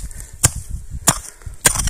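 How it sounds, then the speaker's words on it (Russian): A pickaxe strikes hard clay soil on a mountain slope, three sharp, loud impacts at roughly even intervals, each a brief crack with gritty low rumble in between. "Вот такая кирка"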